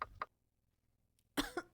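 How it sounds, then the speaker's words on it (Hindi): A woman coughs from dust, two short coughs and then, after a pause, a pair of louder coughs, close and alone. "खांसने लगी और उसने अपना हाथ मुंह पर रख लिया"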